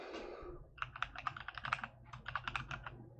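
Code being typed on a computer keyboard, a close, quick rhythm of crisp key clicks in two bursts separated by a short pause, with no voice over it.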